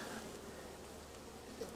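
Honey bees buzz steadily around an open hive as a frame is held above the box, a dense, continuous hum filling the space at moderate volume with no talk.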